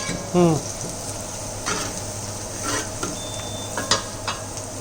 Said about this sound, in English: ये प्रोसेस जहाँ ये कुक कर रहा है ना onions, ये important है to get the entire flavor of it.